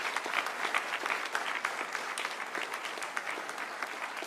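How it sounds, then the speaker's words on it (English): Audience applause fills a graduation ceremony after an administrator award, a steady dense clapping that holds at an even level for the whole stretch with no voices over it. "So let's give him another round of applause."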